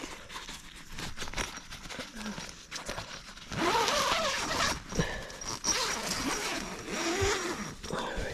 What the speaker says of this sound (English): I can find the zipper.